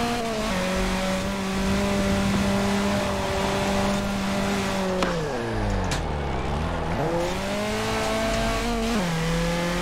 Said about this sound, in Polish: ten samochód ma mały silnik i go trzeba trzymać na wysokich obrotach